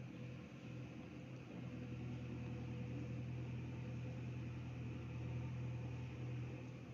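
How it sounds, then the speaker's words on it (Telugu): A sewing machine stitches a seam on a designer lehenga blouse, a faint, steady mechanical hum with a low whir, continuous and even throughout. "పక్కనే ఇంకో కుట్టు వేస్తున్నాను."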